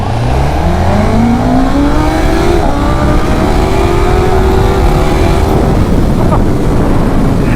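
A KTM 1390 Super Duke and a BMW M1000R accelerate hard together, their engines rising steadily in pitch through the gears, loud and close throughout.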